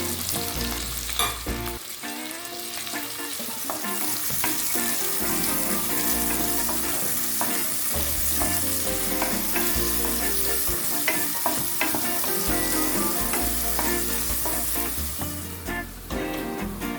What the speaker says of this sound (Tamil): வெங்காயம், பச்சை மிளகாய் போட்டு நல்லா வதக்கிக்கலாம்.